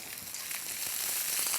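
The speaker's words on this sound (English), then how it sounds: "And the onion is also browning." Onion frying and browning in a kadai while cooking kadai mushroom, a soft, even, crackling sizzle with no break, fairly quiet and close, with no voices.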